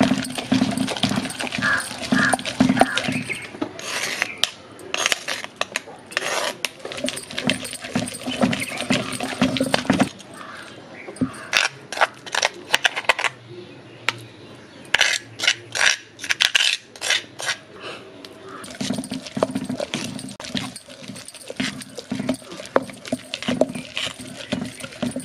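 Chutney being crushed by hand in what looks like a stone mortar, with repeated close grinding and pounding strokes in uneven bursts, broken by a short lull partway through.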